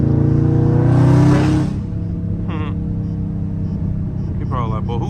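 A Ford Mustang accelerates hard nearby with a loud, rising engine roar that peaks and then settles into a lower rumble, while people talk and exclaim over it.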